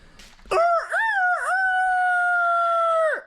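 A man imitates a rooster crowing with his voice, giving a short lead-in call and then a long, loud, drawn-out crow that holds steady and drops away at the end.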